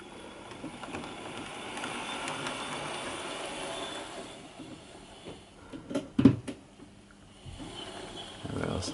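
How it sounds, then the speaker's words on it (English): A small HO scale model locomotive with a high quality Canon motor rolls slowly along the track, a faint steady whir and light rail clicks under some quiet background noise, with a few brief louder knocks near the end. "The loco will roll along cleanly."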